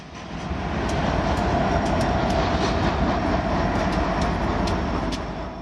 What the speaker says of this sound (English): This coal train passes through Colorado